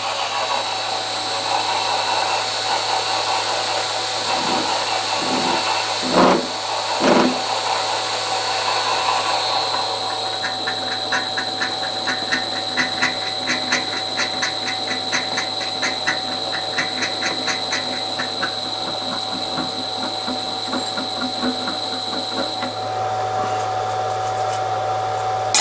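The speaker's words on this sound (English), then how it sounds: "I'm just going to countersink this slightly too to get the thread a chance to start." A small drilled hole being countersunk before tapping a thread during a nixie clock build, a steady whirring motor drone with a faint cutting chatter running through most of the clip, close and fairly loud, with no talking.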